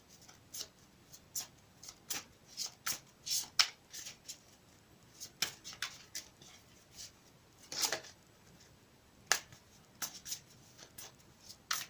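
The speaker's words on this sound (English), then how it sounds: "I will shuffle it again for you on camera" Tarot cards are shuffled close up in a steady series of crisp riffling bursts and soft slaps, with no talking.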